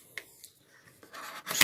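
Someone unboxes a Kingston HyperX Alloy Elite RGB keyboard with Cherry MX Brown switches: short close crinkles and ticks of packaging, then a louder burst of rustling at the end.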